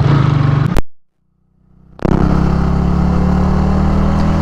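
A motorcycle ridden on a road near Bandipur gives a loud, steady engine drone. The drone cuts out abruptly into a brief silence, then returns just as strongly.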